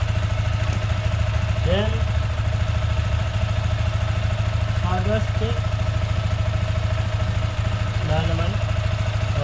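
A Yamaha Sniper 155 VVA motorcycle idles steadily while warming up after an oil change, a close, even, low putter with light mechanical clatter, while someone speaks briefly over it.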